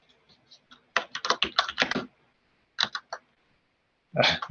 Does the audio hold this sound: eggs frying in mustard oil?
no